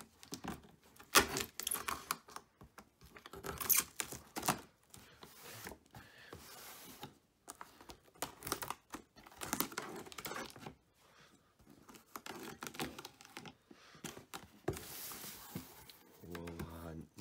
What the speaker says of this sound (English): we're just gonna cut this thing open